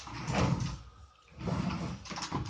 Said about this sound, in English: you can see this door is shut, and so I'll push it open. I love this barn door.